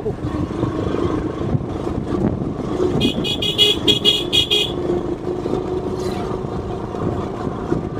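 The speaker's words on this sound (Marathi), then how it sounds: "रस्ता दिसला नुसती गाडी पळवतात." Car driven along an open road, a steady engine and tyre rumble throughout, with a short burst of rapid horn toots partway through.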